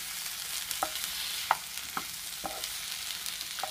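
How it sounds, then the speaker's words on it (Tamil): Onion and tomato sautéing in a pan for a mushroom gravy, a continuous soft sizzle broken by several distinct scrapes of a spatula stirring, close and without talk. "இதோட எல்லாம் நல்லா வதக்கணும்."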